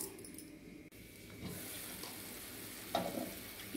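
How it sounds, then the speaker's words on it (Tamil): Water comes to a boil in a covered pot while cooking green peas pulao, a faint, soft bubbling hiss with a few slightly louder gurgles, close by and alone. "இப்போ பார்த்தீங்கன்னா தண்ணி நல்லா கொதிச்சிடுச்சு"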